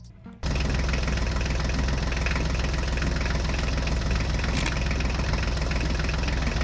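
A mini tractor engine starts up and runs loudly and steadily, a close, dense idling chug with a rough knocking texture that holds unchanged after a brief quiet start.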